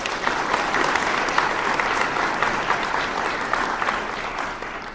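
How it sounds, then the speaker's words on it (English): Sustained, dense applause from a hackathon opening ceremony audience honouring keynote speakers, steady and fairly loud throughout, tapering slightly at the end. "Can we really quickly get another round of applause for all of our keynotes?"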